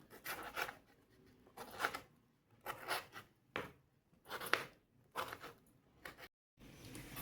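A knife cuts through tomatoes on a board in repeated crisp slicing strokes, each a short scrape, separated by brief pauses, while preparing tomato pickle.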